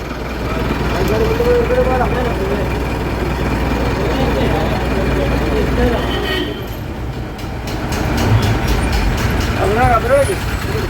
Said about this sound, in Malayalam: വണ്ടി സ്റ്റാർട്ട് ചെയ്യാൻ പോവാണ്